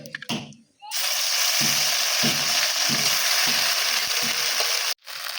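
Ground paste of ginger, garlic, chili and cumin hitting hot oil in a pan for a small-fish curry, bursting into a loud steady sizzle after a brief clatter, with rhythmic scraping strokes of stirring underneath.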